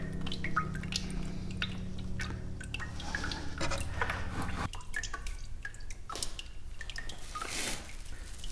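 Urethane resin drips steadily from casting containers lifted above the work area during production casting, a continuous close patter with no voices.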